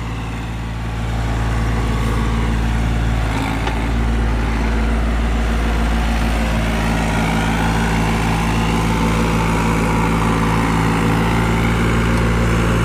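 A tractor pulls a 7-foot National super seeder through a field, its engine running steady and loud with a deep continuous drone throughout, no voices.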